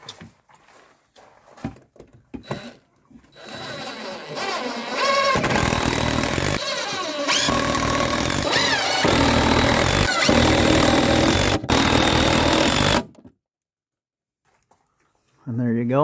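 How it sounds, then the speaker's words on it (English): A DeWalt 40 volt cordless brushless circular saw cuts through decking boards in several loud bursts of whining and ripping, separated by brief pauses, with a voice audible in the quieter moments. "DeWalt 40 volt cordless circular saw, brushless."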